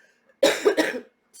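One close, loud cough from a woman, a harsh burst broken into two or three quick pulses, alone with no speech.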